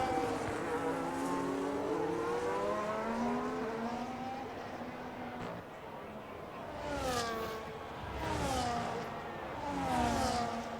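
Race cars in a sim racing game of a Spain round, engines whining through rising and falling gear shifts with several cars passing in close sweeps, fairly loud and continuous.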